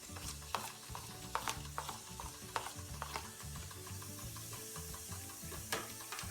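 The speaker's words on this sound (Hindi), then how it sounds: "तेल गरम हो गया, इसमें हम जीरा डालेंगे सबसे पहले।" Cumin seeds sizzle in hot oil in a pan, a faint, steady crackle under quiet clinks and scrapes of stirring, with no talking.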